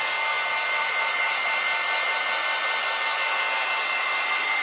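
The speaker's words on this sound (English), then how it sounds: "Like a heat gun, and let's see what happens." A heat gun blows close and steady for the whole moment, drying paint on a gel printing plate. The loud, even roaring hiss never changes pitch or level.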